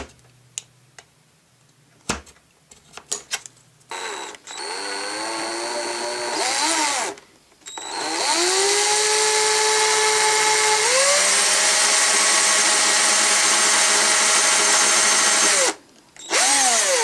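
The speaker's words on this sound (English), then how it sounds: "And then I'm going to drill a hole in so that we can insert the Perspex in." Power drill boring a hole into the soft plastic of a vintage Action Man Sea Wolf toy, with a few clicks and short whirs, then a long close, loud whine that dips midway and stops near the end.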